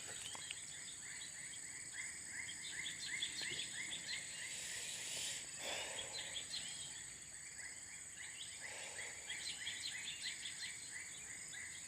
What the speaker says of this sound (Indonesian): Suasana sore ini banyak burung ya